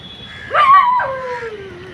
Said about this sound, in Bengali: কুকুরগুলো চিল্লাচ্ছে